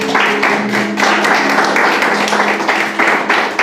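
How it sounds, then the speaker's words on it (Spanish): Spanish-speaking church congregation claps together, a loud, close burst of rhythmic applause with a low sustained tone underneath, fairly even for several seconds with brief dips. "Vamos a dar un aplauso al Señor"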